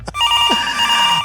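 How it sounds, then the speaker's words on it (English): A telephone bell rings in an NFL team's draft room, a steady, bright, continuous ringing with no talk over it. "the phone is ringing. Let's see if we want to add in the sound effect to the phone ringing."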